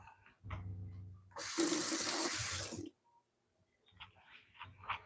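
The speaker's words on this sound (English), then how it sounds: "let me rinse this spoon off" A spoon rinsed under a running kitchen tap while cooking sweet potato tacos: a steady rush of water for about a second and a half, then it shuts off, with brief talk before and soft kitchen clatter after.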